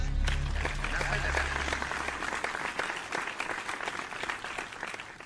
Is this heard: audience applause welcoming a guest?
yes